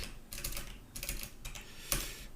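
Fingers type on a computer keyboard, several short bursts of soft key clicks separated by brief pauses, quiet and close.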